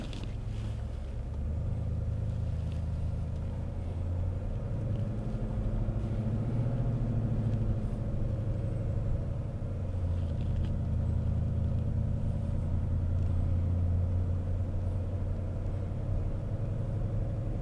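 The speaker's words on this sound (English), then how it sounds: "So now that we're in the truck, we're going to go ahead and drive." A truck fitted with light bars driving on a road at dusk, a steady low engine and road rumble from inside the cab, continuous and even throughout with no talk.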